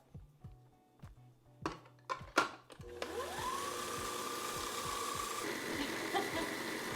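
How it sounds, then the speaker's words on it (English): Some clicks and taps are followed by a kitchen blender spinning up and whirring steadily as it grinds ingredients for a homemade Filet-O-Fish, a continuous motor drone that stays level to the end. "throw like a cup and a half into your blender and then go ahead and blend it"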